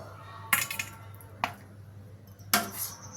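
Chicken curry being served onto a plate, heard as three separate clinks and scrapes of a spoon against dishes over quiet background hum.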